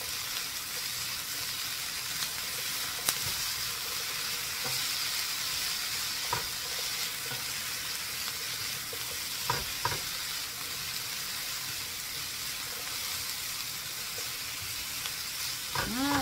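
Spring roll filling stir-frying in a pan after two tablespoons of oyster sauce go in, with a steady broadband sizzle throughout and a few soft scrapes and clicks from the stirring, no voices.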